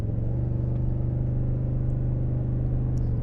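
A 2026 Toyota Tundra Platinum twin-turbo engine in sport mode gives a steady, close low rumble with a constant droning hum, held evenly throughout without talk.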